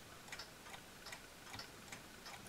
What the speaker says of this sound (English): It still ticks fine